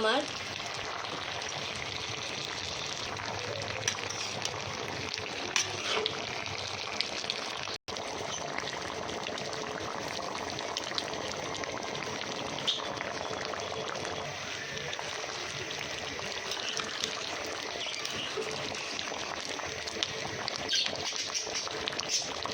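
Fish frying with mixed vegetables in a pan, a steady soft sizzle and bubbling that runs throughout with a few faint clicks, broken once by a brief dropout.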